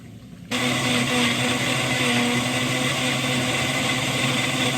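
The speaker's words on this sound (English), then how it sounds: "Put this in a blender." A countertop blender purees a smoothie with collagen peptides, starting abruptly after a brief quiet moment and then running as a loud, steady motor whir that continues for several seconds.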